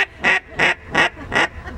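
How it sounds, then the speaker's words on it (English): A hand-blown duck call gives four loud, evenly spaced quacks close up, followed by a fainter fifth note, with no talking in between. "Let's hear your duck call."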